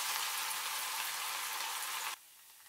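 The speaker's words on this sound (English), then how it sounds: "Add the ginger, stir for 50 seconds." Ginger frying in a pan while being stirred gives a steady bright sizzle, close and fairly loud, that cuts off abruptly near the end.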